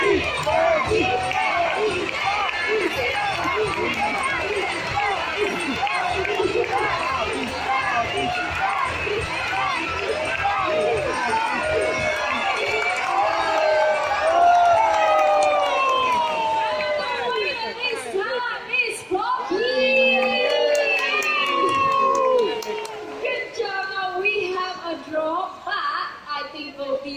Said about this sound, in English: Cocky supporters, you have to cheer louder!